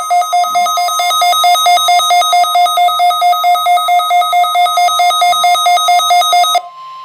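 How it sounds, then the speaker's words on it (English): NOAA Weather Radio public warning alarm tone sounding during a weekly test on station WWG52, a loud, steady electronic tone with a rapid pulsing warble, heard alone before cutting off. "The National Weather Service has just activated the public warning alarm tone."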